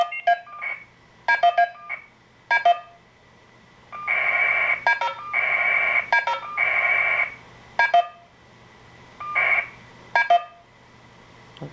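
Telephone keypad DTMF tones on an Asterisk phone system with ADSI: short dual-tone beeps in clusters, followed by longer steady tone bursts, all clear and close with no talking.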